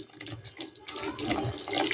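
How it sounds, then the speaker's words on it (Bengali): Water pours from a rinsed yogurt bowl into a pot of Bengali fig kofta curry, a short close splashing trickle with no talk. "এখানে আমি এবার জলটা দিয়ে দিচ্ছি।"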